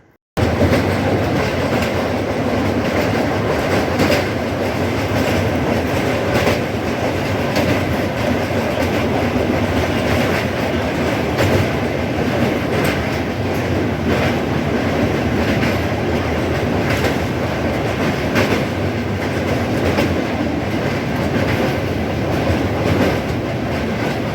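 The Puri–Sealdah Duronto Express passenger train rumbles steadily along the tracks near Cuttack, wheels clattering in a continuous loud roar throughout.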